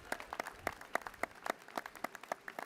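Scattered applause at a university commencement ceremony, a thin patter of distinct individual claps at a quiet level, sounding like a small group rather than a full crowd.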